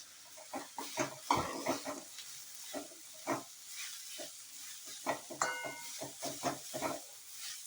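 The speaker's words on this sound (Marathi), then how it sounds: "चांगलं तेलात परतून घ्यायचं आहे. हे बघा, मुळा चांगला तेलात परतून घेतलेला आहे." Grated radish sautés in hot oil in a home kitchen, with soft sizzling under repeated scraping and stirring strokes against the pan, close and fairly quiet, with no voices.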